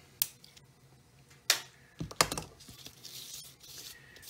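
A glass cutter scoring leaded glass for a solar lantern: a few short, sharp scratching clicks spaced irregularly, followed by a softer hiss, close and faint.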